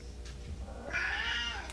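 A house cat gives a single close meow, a short rising-then-falling cry heard alone against a quiet indoor background.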